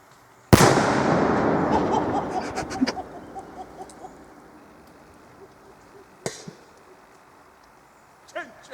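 A Black Death firecracker goes off with one sharp, loud blast, then a long crackling roar that slowly fades over several seconds, followed by a smaller distant pop and another faint bang near the end.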